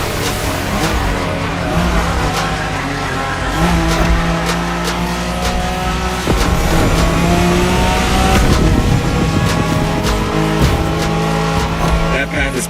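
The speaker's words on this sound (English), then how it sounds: "Skyline is an icon. It's a powerful car that takes skill to control." A Nissan Skyline racing in The Crew Motorfest, engine revving hard and steady under layered music, with brief tire squeal as the car is pushed through the drive.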